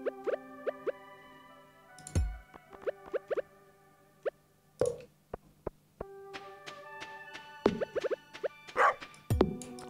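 A dog in the Stardew Valley video game gives a few short barks among clicky interface plops and chimes, and sparse game sounds are scattered through the quiet stretch.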